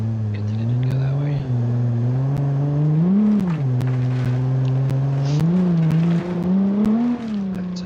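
Engine of a Toyota pre-runner truck in a car video game, a steady low drone that rises and falls with throttle, revving up briefly several times, loud and continuous throughout.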